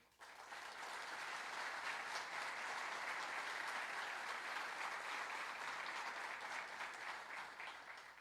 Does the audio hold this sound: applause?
yes